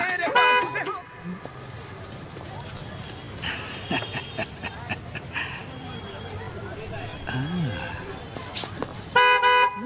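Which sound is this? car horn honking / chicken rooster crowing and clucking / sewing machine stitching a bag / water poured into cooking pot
car horn honking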